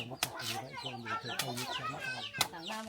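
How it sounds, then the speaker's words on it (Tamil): Chickens cluck close by in a busy, overlapping chatter, with a few sharper calls standing out. "கோழிகள் குஞ்சுகள் அப்போ காணும்."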